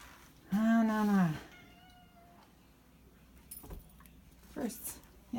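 A house cat meows loudly once near a washing machine, a long close drawn-out cry, followed by quieter rustling and a few faint short mews and clatters.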